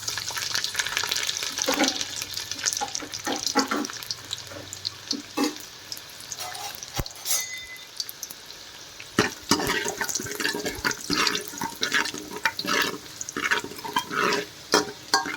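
Cut garlic cloves, about ten, frying in hot oil with popped mustard seeds for a fish curry, a dense close crackling sizzle with sharp pops and a spoon stirring through it, loud and continuous.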